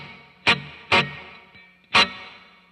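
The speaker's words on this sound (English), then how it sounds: "Now I will turn on the left side, which is just reverb, only on the left side." Electric guitar played through a reverb effect on one side of a stereo rig, three loud strummed chords spaced about half a second to a second apart, each trailing off in a washy tail.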